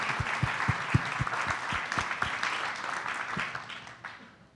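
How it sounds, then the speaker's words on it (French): An audience at an evening talk applauds with distinct, fairly sparse claps over a softer wash of clapping, fading out over about four seconds. "On applaudit."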